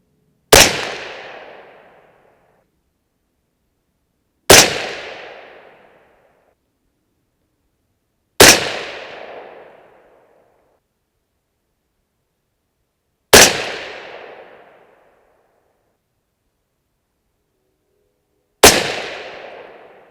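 Five loud, sharp 6.5 Creedmoor rifle shots fired with a fouled barrel, spaced roughly four seconds apart, each followed by a short decaying echo, with silence between them and no talking.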